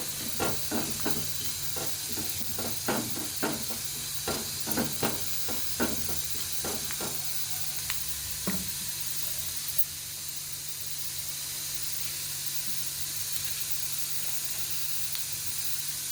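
Cumin seeds and dried red chillies sizzle in a spoonful of oil for mint chutney, with a run of sharp crackles and spits over a soft hiss that settles into a quieter steady sizzle.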